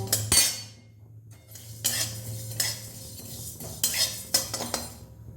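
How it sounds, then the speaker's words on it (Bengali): Mustard seeds and spices for a sour-spicy mango pickle being stirred in a pan, with repeated scraping and clinking strokes over a low steady hum, no talking. "সর্ষেটা তো বেশি ভাজবো না, জাস্ট দেবো 2-4 বার নেড়েই নামিয়ে দেবো"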